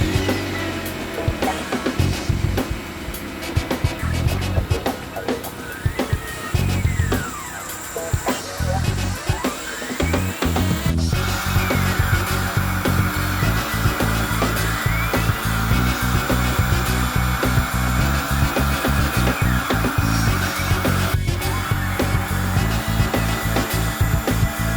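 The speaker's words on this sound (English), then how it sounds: "We're going to get that stuck down in the mill and start carving." A CNC mill carving a love sign from quarter-inch sheet material, a continuous whining cut with rhythmic grinding and rattling pulses, loud and close, with no talk.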